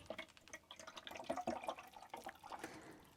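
Water is poured into the water container of a new coffee machine in a caravan, a faint, close trickle and splash with uneven bubbly pulses, heard alone.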